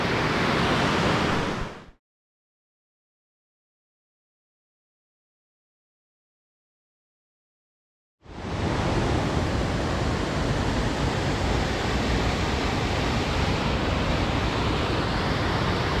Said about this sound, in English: you get the Black Brook Falls that most people know about